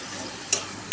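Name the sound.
chicken being stirred and fried in a pan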